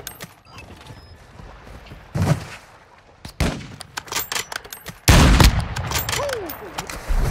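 Gunfire in a shooter video game, sharp loud shots and short bursts amid mechanical clatter and a steady background din, heard without talk.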